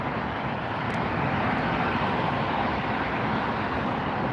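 A Frontier Airlines airliner crosses a runway at LAX, a steady, fairly faint broadband engine rumble heard from a distance with no talking.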